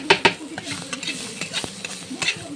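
Onion and chili stirred in a pan as they fry lightly, with sharp scraping clicks of the utensil over a soft background sizzle, in irregular close bursts.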